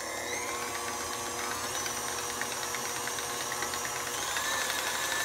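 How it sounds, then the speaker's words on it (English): An electric mixer whisks smashed cauliflower with garlic powder and pink Himalayan salt, giving a steady whirring drone that runs continuously and fairly loud throughout, with no talk over it. "we're ready to whisk it"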